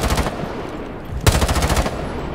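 Rapid automatic gunfire from a Rainbow Six Siege match, shots fired through a wall at an opponent, a loud burst at the start, then a brief lull and a second sustained volley of close, punchy rounds, no talking.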